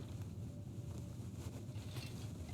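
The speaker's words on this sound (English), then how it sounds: "Sounds like it might be a blizzard out there though" Blizzard wind howls outside in a survival video game, a steady low rumbling gust noise with a constant blustery roar and no voices.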